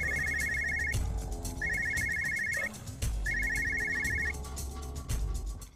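A telephone rings in repeated electronic trill bursts, three distinct rings separated by short pauses, loud and close with a low hum beneath and no talking.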